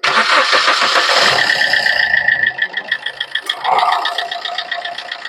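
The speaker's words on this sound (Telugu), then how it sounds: "డీజిల్ ఇంజన్ ఇది." A vehicle's diesel engine cranks with a rapid whirring and then catches, settling into a loud, close, rhythmic knocking idle clatter with no one speaking.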